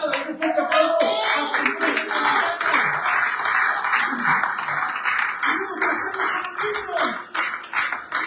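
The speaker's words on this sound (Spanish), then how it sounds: "Iglesia amada, un fuerte aplauso." A church congregation bursts into strong, sustained applause, dense clapping filling the whole stretch with a preacher's voice and scattered voices faintly underneath.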